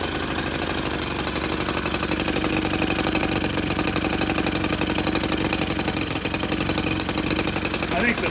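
A Honda CT90 trail motorcycle engine runs with no air cleaner and a poorly adjusted carburetor, a loud, steady, close-up idle with a rapid, even putter that continues without a break.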